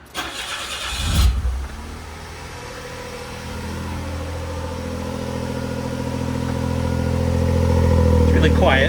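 A Suzuki Cappuccino's small engine cranks and catches with a short loud burst, then settles into a quiet, raspy idle that slowly builds in level toward the end.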